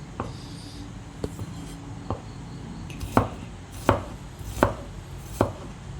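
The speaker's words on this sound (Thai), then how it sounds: "หั่นซอยไปเลยจ้า" Knife chopping and slicing shallots on a cutting board, with a few soft taps followed by sharper, evenly spaced chops about a second apart, close and clear with no talking.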